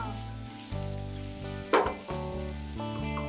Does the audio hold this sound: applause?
no